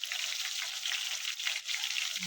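Ginger garlic paste, two spoonfuls, frying in hot oil for a whole masoor dal dish, giving a steady, close, crackling sizzle that fills the clip with no voices over it.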